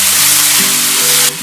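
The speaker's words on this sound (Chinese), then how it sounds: "热锅放油，油温7成热，下入蒜跟红椒炒香" Garlic and red chili stir-fry in oil heated to about seventy percent, giving a loud, steady, close hiss of sizzling that breaks off abruptly near the end.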